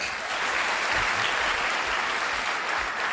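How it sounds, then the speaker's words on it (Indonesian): An audience at a motivational business event in Indonesia breaks into sustained applause, dense clapping filling the room evenly from start to finish without talk over it. "Tepuk tangan untuk Anda ya"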